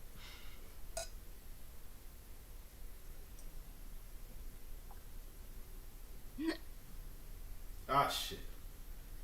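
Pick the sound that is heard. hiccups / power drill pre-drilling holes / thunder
hiccups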